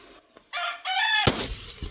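A rooster crows at a village house, a loud, close cock-a-doodle-doo in rising harmonic bursts, followed by scratchy clucking and farmyard rustle.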